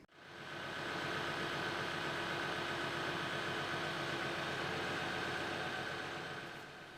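An Allis Chalmers D17 tractor engine runs steadily, a continuous broadband rumble that rises quickly at the start and holds even, fairly loud and close, with no voices.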